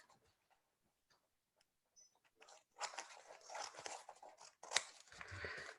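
Scissors trim a glued paper page for a homemade nature journal. Faint ticks and small snips come first, then a longer run of close, crisp cutting with one sharp snap near the end.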